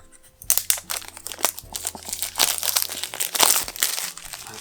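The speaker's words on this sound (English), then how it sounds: "Try to get rid of this plastic right here." Plastic wrap being peeled and crinkled off an Apple Magic Mouse 2 box, a close, busy run of crackling crinkles and tearing snaps that starts after a brief quiet moment and goes on steadily without talk.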